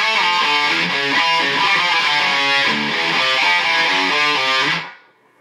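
Distorted electric guitar chugs through a song's main riff, a loud, gritty palm-muted pattern with rhythmic low-note stabs, playing alone for about five seconds before cutting off abruptly.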